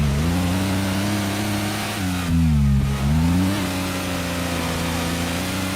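Rally car engine in the video game Silica, a loud, close mid-pitched engine drone revving up and down and dipping briefly before climbing again.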